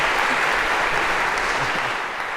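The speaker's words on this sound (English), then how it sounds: "OK, and a round of applause for Spot as well." An audience at a CS50 lecture breaks into steady, dense applause, loud and continuous throughout before easing slightly at the end, celebrating Spot the robot.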